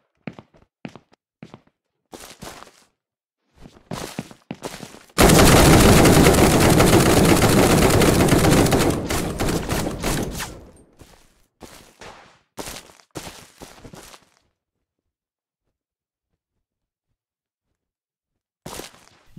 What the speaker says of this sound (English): You can take cover and shoot enemies.